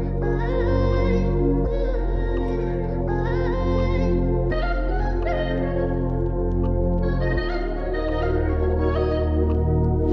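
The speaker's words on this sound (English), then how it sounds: "combined with a little ambient vinyl texture from Simon Sevilla's Capital Drum Kit 4" Dark melodic hip-hop beat built on a looping melody, layered with soft ambient vinyl crackle and a wavy drum texture loop, playing steadily and fairly loud with no voices.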